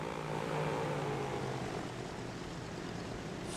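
Propeller airplane from around 1925 in the transport simulation game Transport Fever 2, a steady droning engine hum with a faint rising whine, continuous and moderately quiet with no voices.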